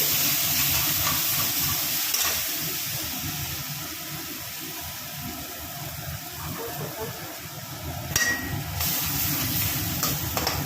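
Cashew and poppy seed paste goes into a pan of frying spice mix, giving a steady, close hiss and sizzle that runs throughout with a few brief louder bursts near the end.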